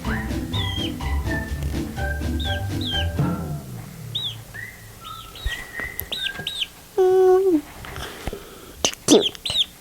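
A live chick peeps in high, rising chirps, repeated in quick bursts close by, mixed at first with a singing voice and occasional speech.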